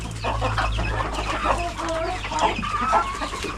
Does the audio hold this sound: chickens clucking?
yes